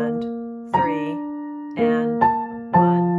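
A piano plays the B section of Beethoven's Für Elise at a slow practice tempo, with a few spaced notes and chords ringing out clearly, no talking.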